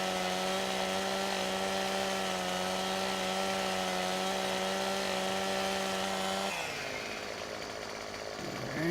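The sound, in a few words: chainsaw cutting trees in Farming Simulator 17 video game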